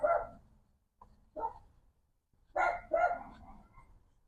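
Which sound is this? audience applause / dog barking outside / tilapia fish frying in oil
dog barking outside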